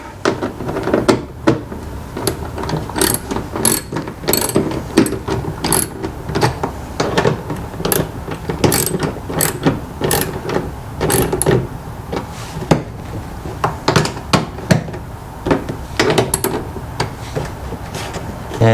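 Bolts being tightened while Muslogy mud flaps are installed on a Ford Maverick, a steady run of rapid clicking ratchet strokes and small metallic knocks, close and continuous.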